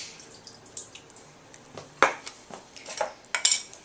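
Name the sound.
draining corn for veggie chilli soup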